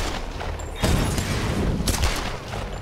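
A burst of gunfire cracks out close and loud in the video game Tomb Raider, over steady background noise, followed by a second shot a moment later.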